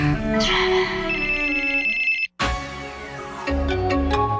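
An electronic telephone ring plays in a Korean TV advert: bright, sustained tonal ringing with layered effects, then a sudden brief cutoff and a second swelling ring with sharp accents, loud and alone without talk.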